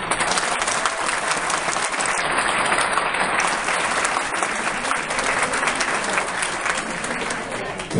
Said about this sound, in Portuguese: eu peço o seu aplauso a Alfa Formaduras.